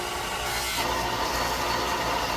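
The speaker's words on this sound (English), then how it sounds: "Some final sanding sessions in order to finalize the shape" A wooden handle for a restored surplus Japanese axe is being sanded to its final shape, giving a steady, close abrasive rasp that shifts slightly in pitch partway through.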